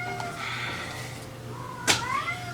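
A cat meows several times over a low background hum, with a sharper, louder cry near the end, close and moderately loud.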